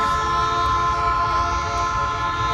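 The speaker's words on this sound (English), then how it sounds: "this is what it sounds like when it comes to the neighborhood. Just horn all the time" A loud, sustained train horn of the Ferrocarril de Cuernavaca in a Mexico City neighborhood blares steadily with a deep rumble of the passing train beneath it, close by and continuous.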